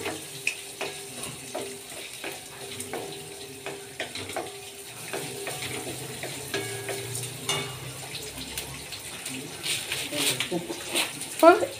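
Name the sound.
cut shallots sautéing in pan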